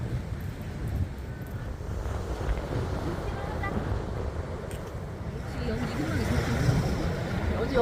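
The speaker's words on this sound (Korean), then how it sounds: "파도 봐. 파도가 엄청나." Big waves break and surge at Haeundae beach in Busan under strong wind, a loud, continuous roar of surf mixed with heavy wind buffeting the microphone.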